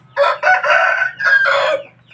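A fighting rooster crows once, close and loud, in a single drawn-out call of about two seconds with no other sounds around it.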